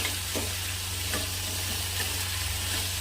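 Potato slices frying in a pan with chili flakes hiss steadily while a spoon stirs them, giving soft periodic scrapes and taps against the pan under the continuous sizzle.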